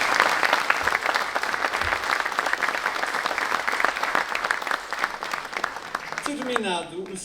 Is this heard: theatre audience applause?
yes